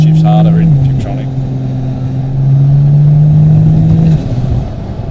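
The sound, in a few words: 1000HP turbo Barra car accelerating and shifting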